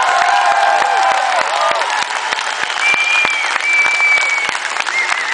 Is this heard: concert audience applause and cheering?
yes